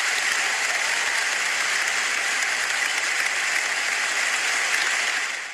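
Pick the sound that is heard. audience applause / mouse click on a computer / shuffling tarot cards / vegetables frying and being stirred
audience applause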